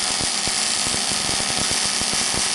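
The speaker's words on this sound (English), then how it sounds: "So now it's welded on. Just a quick tack weld." A quick tack weld on an RB30 engine part, producing a loud, continuous crackling buzz with rapid irregular pops and no talking.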